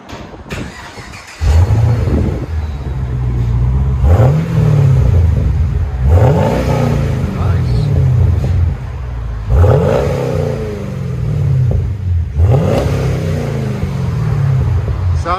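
A Chevy Camaro SS with a 6.2L V8 and its resonator and both mufflers removed revs loudly and up close, with four or five sharp throttle blips that rise and fall over a steady, raw idle rumble.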